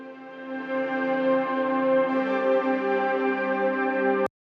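A sustained synthesizer pad, a rich harmonic chord held steady for about four seconds, brightening midway before cutting off abruptly, heard alone without speech.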